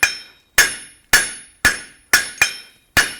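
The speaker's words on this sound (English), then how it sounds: "We're using the 3-pound hammer for the 1/2 inch by 1/2 inch solid." A 3-pound hammer strikes 1/2 inch square solid steel, forging a sharp point for a nail, in seven sharp ringing blows at a steady, slightly uneven rhythm, close and clear with no talk.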